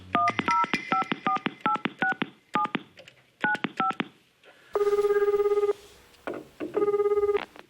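A telephone call is placed: a rapid series of DTMF dialing beeps in short bursts, then two long electronic ringback tones separated by a pause, clear and fairly loud with no talk.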